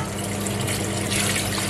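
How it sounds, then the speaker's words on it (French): A brief, steady rush of half a litre of water pouring into a saucepan, close and fairly loud, with no talking. "et on rajoute le demi-litre d'eau."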